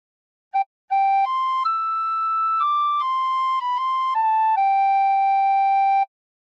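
Tin whistle plays a short phrase of the hymn How Great Thou Art: a brief pip, then a run of pure, steady held notes stepping up and down before a long final tone, clear and close, no talking.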